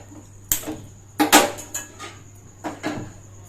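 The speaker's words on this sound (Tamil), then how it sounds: "இப்போ கடாய் வச்சுட்டேன்." A kadai pan is set down on a kitchen stove with several sharp metallic clanks and scrapes, close and distinct against a quiet background.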